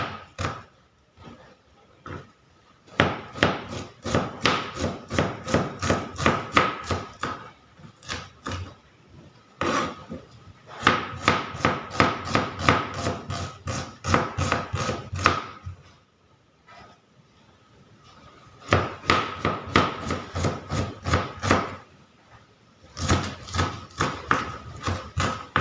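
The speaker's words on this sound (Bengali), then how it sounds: "পেঁয়াজটাকে ছোটো ছোটো করে কেটে নেব।" Onion is chopped into small pieces on a board with rapid, crisp knife taps in repeated bursts separated by short pauses, close and clear.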